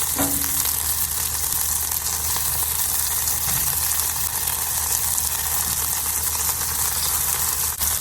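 A butter-brushed burger bun grills directly on a charcoal and wood fired grill, giving a loud, dense, continuous sizzle and crackle throughout with no speech.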